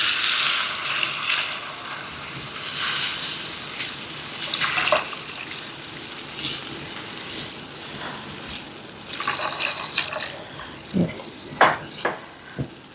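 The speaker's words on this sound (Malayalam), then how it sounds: "ഇനി ഇതിലേക്ക് 2-ാം പാൽ ഒഴിക്കാം" Second coconut milk is poured into a pot of karimeen fish molee, giving a soft, uneven liquid splashing with brief louder bursts of pouring and clinking near the end.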